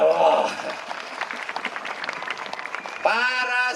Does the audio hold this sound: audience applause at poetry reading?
yes